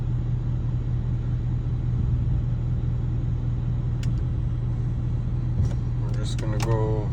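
A 2016 Ford F-250 with a 6.7L PowerStroke diesel idles with a steady, close, deep rumble while the transmission is shifted through its gears, with a few faint clicks and a brief voice near the end.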